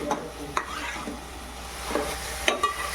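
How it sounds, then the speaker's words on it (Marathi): Onion paste cooks in a pan, a soft steady sizzle broken by a few scraping stirs of a spoon against the pan, close and moderately quiet with no talking. "कांदा पेस्ट हा मस्तपैकी आपल्याला शिजवून द्यायचं आहे"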